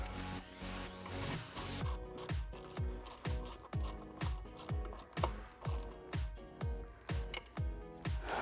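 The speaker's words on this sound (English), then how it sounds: "grab your ratchet and tighten down all 4 bolts" A ratchet tightens throttle body spacer bolts on a 2011-2020 Ford F150 5.0L, with close, steady strokes of sharp pawl clicks repeating about twice a second.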